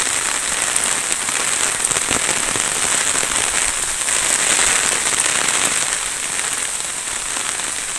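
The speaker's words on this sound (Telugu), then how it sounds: "వర్షం బాగా కొట్టేస్తుంది" A downpour of heavy rain drums hard and close on a surface, a dense crackling hiss with scattered sharp drop impacts, steady for the whole stretch.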